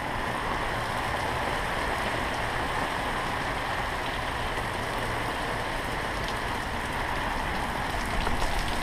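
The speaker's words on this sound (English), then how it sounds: "So remember the torrential rains I told you we'd be having? They're here." Torrential monsoon rain pours steadily onto a backyard swimming pool, a dense, unbroken hiss and patter that stays loud and even for the whole stretch with no voices.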